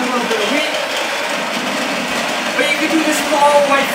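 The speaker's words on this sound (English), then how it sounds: "So sorry about the noise, we're just grinding a little bit of wheat." A grain mill grinds fresh wheat in a kitchen, giving a loud, continuous whirring, buzzing motor drone that holds steady at close range from start to finish.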